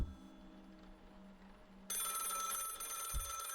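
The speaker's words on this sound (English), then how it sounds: "There's a phone ringing." A telephone rings inside the horror video game Lakefront Resta, a steady electronic ring that cuts in partway through over a low ambient drone, fairly clear and with no one talking.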